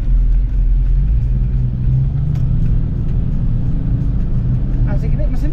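A Jeep Comanche's engine runs at a steady idle, a loud low rumble close by and continuous, with faint voices in the background.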